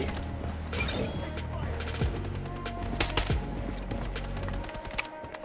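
Rapid gunfire and clattering weapon mechanics in the shooter game BloodStrike, bursts of sharp cracks mixed with mechanical clicks and impacts over a busy game soundscape.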